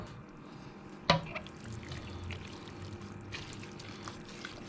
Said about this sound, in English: I'm also just going to add some water to that